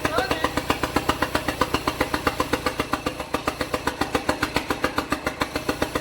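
The engine of an SRT4 drift truck with no throttle position sensor idles roughly nearby, a steady, fast, loping pulse of exhaust beats with no speech over it.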